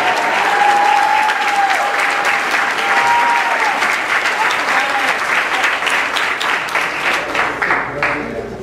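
At an event honoring seniors, an audience applauds loudly and steadily for an honoree, with a sustained wash of clapping, a faint whistle or tone early on, fading slightly at the end.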